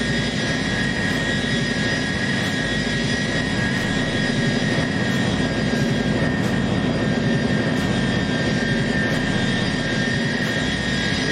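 Tupolev Tu-154 jet engines in flight in the X-Plane 11 simulator, a steady, loud, continuous airliner roar with a high whine, unchanging and alone with no talk over it.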